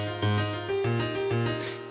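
A keys arpeggio in FL Studio without slide, with distinct stepped notes in an even rhythm, each note changing pitch abruptly rather than gliding, clean and alone.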